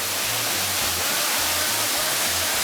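A waterfall roaring as a steady broadband rush, loud and continuous, with a faint low rhythmic thumping underneath.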